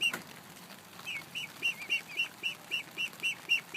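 Seven-week-old Muscovy ducklings give a steady series of soft, high peeping chirps, about ten in quick regular succession, close by and fairly quiet.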